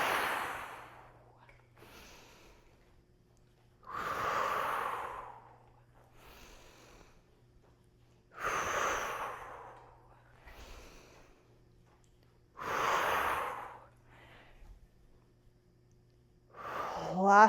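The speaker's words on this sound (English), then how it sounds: "Exhale." Slow, deep exhales during a yoga flow come in regular waves every four seconds or so, close and breathy, with quiet spoken instruction between them.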